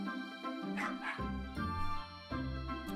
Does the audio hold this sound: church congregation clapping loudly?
no